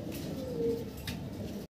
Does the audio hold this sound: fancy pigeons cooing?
yes